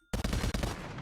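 A Thompson submachine gun fires full auto in a Call of Duty Zombies-style game, three loud, close bursts of rapid shots, the first two split by brief gaps and the last trailing off into reverb.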